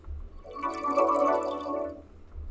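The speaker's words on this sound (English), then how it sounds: "some bubbles" Bubbles as a processed sound effect in a spectral music pad: a steady, shimmering bubbling swell with dense tonal layers that rises and fades over a couple of seconds, no voices present.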